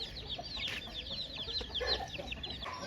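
A hen with three chicks at a pet shop, the chicks cheeping in rapid high repeated peeps with a few low clucks from the hen, fairly faint and close, no voices.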